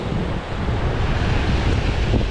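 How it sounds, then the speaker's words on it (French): Strong sea wind buffets the microphone while lure fishing from the shore, a steady, loud, broadband roar with surf mixed in and no let-up. "Mais je pensais pas que ça allait être autant le vent."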